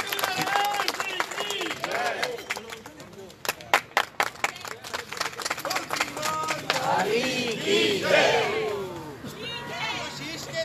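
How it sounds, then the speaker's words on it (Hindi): A crowd at a devotional gathering on a Khatu Dham pilgrimage claps and cheers in welcome, with bursts of hand claps and voices under an announcer's talk, fairly soft and somewhat distant. "एक बार जोरदार तालियां बजाकर स्वागत करें।"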